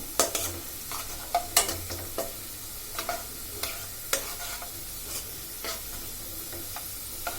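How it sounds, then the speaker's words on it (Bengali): Onions fry in oil for beef korma, a close, crackling sizzle punctuated by repeated sharp scrapes and knocks of a spoon stirring against the pan. "পেঁয়াজ লাল হয়ে আসছে একদম ভেজে ফেলবো না"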